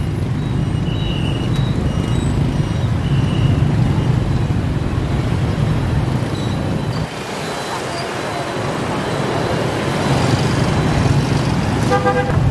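Heavy road traffic in Vietnam, a dense continuous rumble of engines with horns tooting now and then, close and loud throughout.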